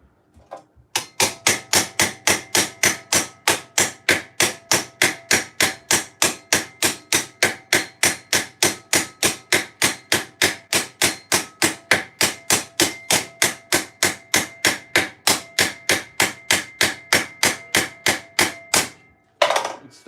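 Metal rivets on armour being hammered in a garage: a long, steady run of sharp, evenly spaced ringing blows, close and loud, stopping briefly near the end before one last strike.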